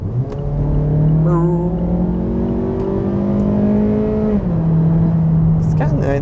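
A 2016 Mazda CX-3 GT subcompact SUV engine pulls hard under acceleration from inside the cabin, a steady rising drone with a brief dip as it shifts before climbing again, loud and continuous.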